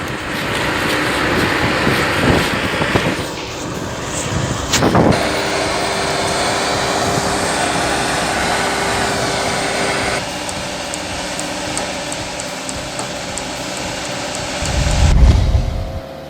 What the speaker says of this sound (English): The forestry tractor roars with power